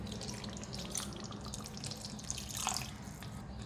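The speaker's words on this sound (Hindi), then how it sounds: "अब इसमें ग्रेवी के लिए पानी डालूँगी मैं।" Water is poured from a cup into a pot of mutton and potato curry gravy, a soft continuous splashing stream close by, quiet and steady with no voices.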